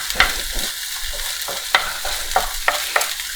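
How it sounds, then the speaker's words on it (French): Omelette eggs being stirred in a hot pan, with a spatula scraping in several distinct strokes over a steady, close sizzle, and no talking. "Voilà, on mélange. Histoire que ça cuise bien partout."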